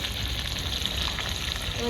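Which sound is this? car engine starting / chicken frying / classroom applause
chicken frying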